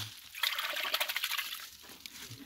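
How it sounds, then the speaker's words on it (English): Rainwater from a catchment system trickles and splashes through a filter and out a hose into a drum, a close, steady watery rush with quieter dribbling toward the end. "Water runs into this filter, then runs out this hose."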